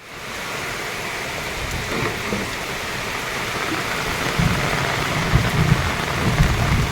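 Heavy southwest monsoon (habagat) rain pours down beside a fishpond in the Philippines. It makes a loud, constant hiss of drops on surfaces that swells slightly louder toward the end, with no voices.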